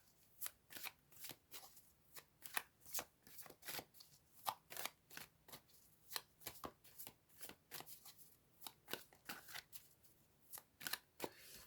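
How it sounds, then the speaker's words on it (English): Tarot cards are shuffled in quick, rhythmic riffling bursts, close and crisp, repeating steadily with short pauses between. "as I was shuffling"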